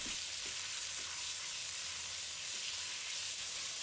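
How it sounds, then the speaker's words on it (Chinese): Pork belly stir-frying in cooking oil in a wok over medium heat gives a steady, close, even sizzle that runs throughout with no talking. "我们把五花肉放入锅中，用中火炒至肉变色并出油"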